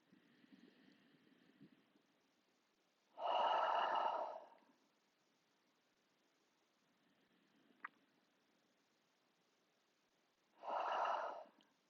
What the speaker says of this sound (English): inhale through your nose and exhale, sigh your breath away